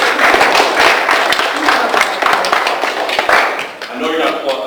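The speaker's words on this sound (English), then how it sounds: "I know you're not applauding because I'm coming up." Audience applauding at a special districts association meeting about a library, loud close clapping that swells and fades with some scattered taps.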